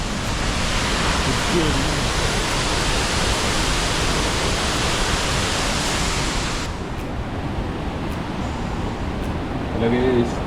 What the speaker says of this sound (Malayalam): മൂന്നാമത്തെ വെള്ളച്ചാട്ടത്തിൻ്റെ ഏറ്റവും മേലെ